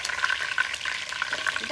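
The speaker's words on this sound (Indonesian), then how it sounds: "Kita goreng dah udang dahulu." Shrimp frying in a pan as the first step of fried kway teow, a steady, close sizzle with bright crackling spatters and light stirring scrapes throughout.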